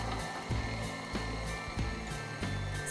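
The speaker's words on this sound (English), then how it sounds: "working at the pace of your grinder, gently press the meat through" Electric meat grinder running steadily at a medium setting while chuck roast and pork belly are pressed through a large die, a continuous motor drone with recurring mechanical knocks about every half second.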